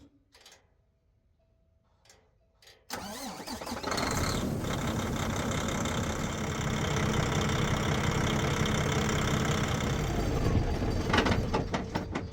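A few quiet clicks, then a diesel truck engine cranks and catches at about three seconds, settling into a loud, rumbling, knocking idle that runs on steadily.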